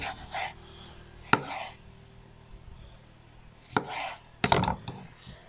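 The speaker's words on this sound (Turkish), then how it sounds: "Onları da doğradıkça suyumuzu dolduracağız." Cactus fruit being chopped for vinegar on a cutting surface: a few sharp knife knocks with short scraping sounds between, spaced unevenly and close by, in a quiet room without talk.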